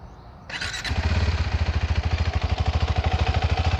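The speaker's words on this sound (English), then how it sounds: "So let's just quickly switch on the bike and hear the exhaust note." KTM 390 Adventure motorcycle with new stock exhaust starting up: a brief starter whine, then the single-cylinder engine catches and settles into a loud, close, evenly thumping idle.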